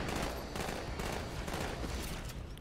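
Weapon fire in Halo 2 rattles as a dense, continuous barrage of overlapping shots and impacts, fairly quiet in the mix and sustained throughout with no talk.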